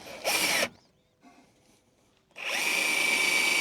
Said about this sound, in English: This is where two drills come in handy.